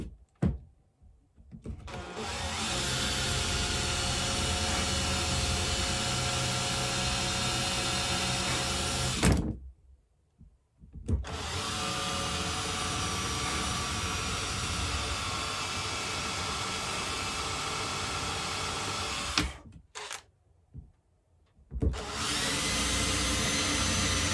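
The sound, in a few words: power drill drilling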